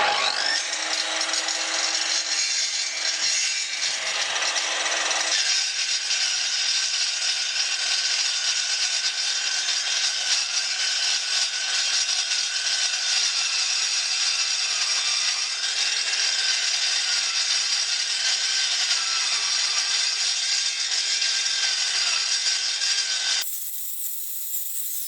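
A circular saw fitted with a dry-cut blade runs at about 3000 RPM as it cuts through steel, giving a loud, continuous, harsh grinding screech that holds for over twenty seconds before the cut ends.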